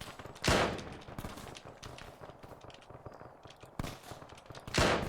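Gunfire in the military shooter game Arma 3, loud sharp bursts of shots at intervals with quieter distant firing and rattles between them.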